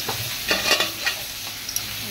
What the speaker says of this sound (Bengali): এই দেখুন আমি পোস্ত দিয়ে বেগুন আলু বিনস করে ভাজা করছি।